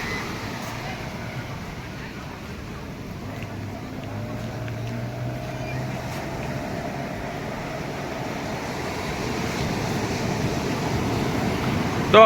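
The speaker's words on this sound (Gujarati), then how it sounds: "તો મિત્રો, ઓલા કાકા બોટ લઈને ગયા છે." A boat's engine drones low and steady out on the sea at Nagoa beach in Diu, mixed with wind and surf and growing slightly louder toward the end.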